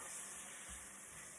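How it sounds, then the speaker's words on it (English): Chicken fries in a hot pan on the stove, giving off a steady, dense sizzle that stays even throughout with no voices. "You can hear it sizzle, and that's the sizzle you want."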